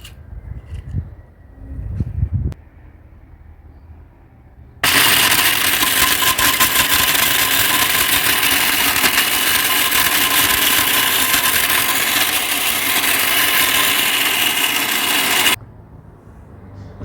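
An electric grinder runs at home, grinding dried turmeric into powder. A loud, steady whirring roar lasts about eleven seconds and then cuts off. Quieter handling noises come before and after it.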